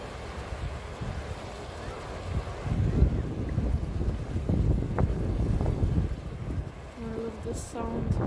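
Sea waves wash and roll at the shore as the tide comes in, with steady wind buffeting the microphone and a loud surge in the middle, heard alone without talk.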